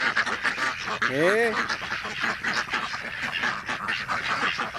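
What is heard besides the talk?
ducks quacking in a park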